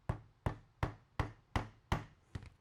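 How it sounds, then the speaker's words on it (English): Seven sharp hammer blows, evenly spaced at roughly half-second intervals, strike the corner of a chopped real-wood floater frame as it is joined together; each knock is close, crisp and woody with a short decay, and nobody speaks. "hammer down a little bit on that corner, and finish hammering the corner together"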